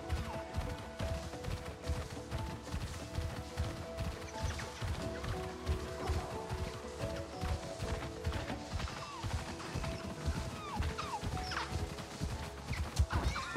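Direhorses in the video game Avatar: Frontiers of Pandora snort and whinny amid steady hoof clatter, with layered game ambience, scattered crashes and bursts like distant gunfire throughout, no talking.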